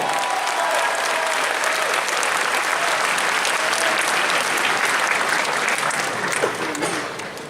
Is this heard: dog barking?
no